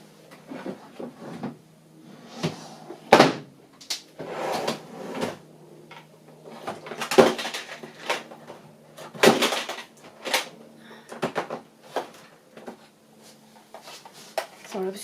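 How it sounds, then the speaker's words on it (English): Rummaging in a drawer for a label maker brings irregular clattering knocks, sliding scrapes and rustles over about fifteen seconds, close by and uneven, with a few sharp louder clunks and faint talk. "Sorry, I was just trying to grab it out of the drawer."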